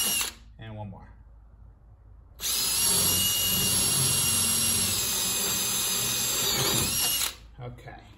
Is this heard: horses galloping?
no